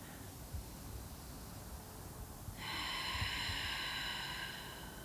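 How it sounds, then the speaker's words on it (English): A single slow breath, a soft airy inhale that swells into a louder, brighter hiss in the second half, close and alone, drawn during a heart-opening yoga flow. "let's hear your breath"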